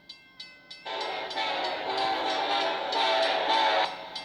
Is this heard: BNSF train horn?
yes